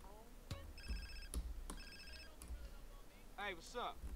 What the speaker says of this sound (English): Before I take the phone call from Twat Alina